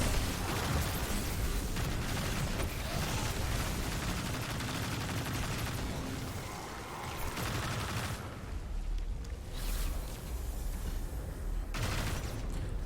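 Gunfire in the video game Destiny 2, shooting runes inside a Legend Lost Sector labyrinth, comes as dense, loud bursts of shots and blasts, rapid and continuous, with brief lulls near the end and no speech.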